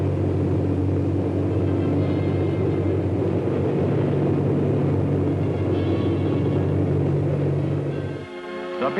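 Deep, steady B-36 bomber engines drone loudly and continuously, low and heavy, before cutting off abruptly near the end.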